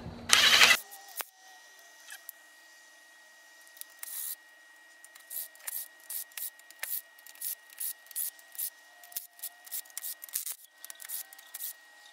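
Bolts are worked out of the cover on a stuck Flathead engine with a hand tool, a run of quick ratcheting clicks and metallic rubs in short irregular bursts after an opening loud scrape, close and otherwise quiet.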